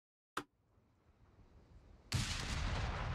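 A Wehrmacht mortar fires in the Company of Heroes 3 World War II game: one sharp crack from near silence, then a much louder blast that holds as a rough, sustained roar.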